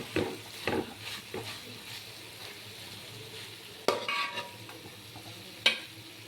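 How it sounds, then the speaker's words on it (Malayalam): A spoon stirs a sticky coconut and jaggery syrup mixture with ghee in a pan for Kerala kozhukkatta filling, giving soft scraping strokes, a few sharp metallic clinks and a faint low sizzle, no talking. "ഒരു 1/2 ടീസ്പൂൺ നെയ്യും കൂടി ഒഴിച്ച് ഒന്നുകൂടെ ഒന്ന് ഇളക്കട്ടെ"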